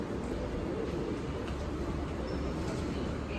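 Steady rumbling noise inside a subway train riding toward the airport, a constant dense roar of wheels and carriage with no clear breaks or voices.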